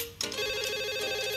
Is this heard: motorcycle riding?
no